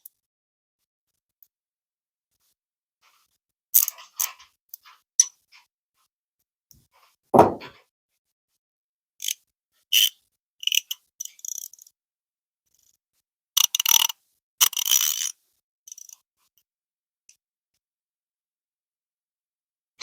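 An ICON ratchet is worked during a teardown test: sparse, sharp clicks and short bursts of mechanical ratcheting in near silence, with one louder thunk partway through.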